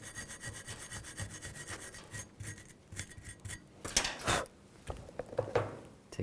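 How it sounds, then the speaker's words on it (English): A wire brush scrubbing a 2013-19 Nissan Sentra rear brake caliper bracket, with quick rhythmic back-and-forth rasping strokes up close and a couple of sharper scrapes toward the end. "Take a wire brush. Just clean up this area."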